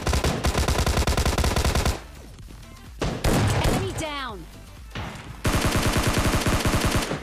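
Rapid automatic gunfire in PUBG Mobile Lite, with long loud rattling bursts at the start and end and a voice speaking in the quieter gap between them.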